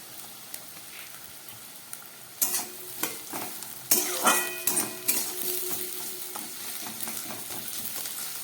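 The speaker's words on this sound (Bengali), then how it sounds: "আলু পেঁয়াজটাকে আমি খুব ভালো করে ভেজে নেব" Potatoes and onions frying in a pan for an okra chorchori, with a steady sizzle and repeated scraping stirs of a spatula that grow louder partway through, close and without talk.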